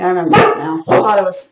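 A pet dog that barks at everything lets out a few sharp barks close by, mixed in with someone talking over them indoors.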